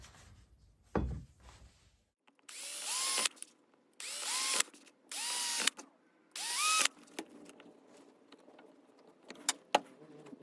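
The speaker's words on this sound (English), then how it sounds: "stick a small hole in with a drill" Several short bursts of a power drill whirring up and down, drilling a small hole in a Bose SoundLink Color Bluetooth speaker, each a few seconds long, separated by pauses with faint handling clicks nearby.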